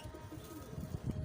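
Fighter pigeons coo softly in a short, faint burst, a low murmur of calls set against a quiet background.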